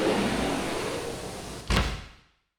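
A sliding door rumbles and scrapes steadily open as a sound effect, then closes with a short bump at the end before cutting to silence.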